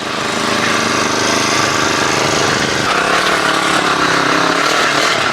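Vithumauli engine weeder, a small farm cultivator engine, running steadily after being started, a loud continuous buzzing drone close by that shifts slightly in pitch midway, with no speech over it.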